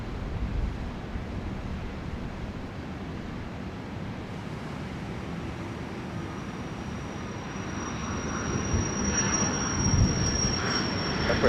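Airplane landing at Dallas Love Field on a rainy day: a continuous broad jet roar builds louder toward the end, with a thin high engine whine rising alongside and no talk.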